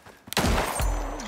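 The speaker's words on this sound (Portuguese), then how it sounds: "Eu fiquei parado atirando nesse alvo e pontuando." Gunfire at a shooting target in the video game Icarus: a short burst of loud, close rapid shots with a sharp onset, followed by a second blast and a ringing decay.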